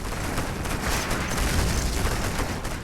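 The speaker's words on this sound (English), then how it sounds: "Gatling cannons." Gatling cannons blaze away in a Command & Conquer Generals battle, a dense, continuous rattle of rapid fire with heavy booms layered in, loud and unbroken from start to finish.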